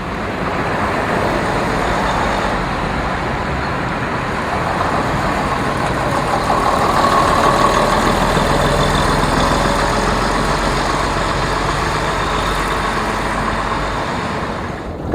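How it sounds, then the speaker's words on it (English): Vintage London RF bus driving around showground roads, a steady loud diesel engine drone with road rumble close by, running continuously without talking. "RF28 gave visitors a spin around the roads of the Detling Showground in April 2013."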